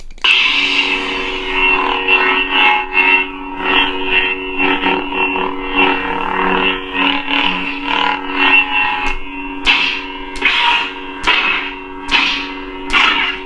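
A lightsaber with a villain sound font hums steadily with wavering swells as it swings, then several sharp crackling clashes ring out near the end, loud and close.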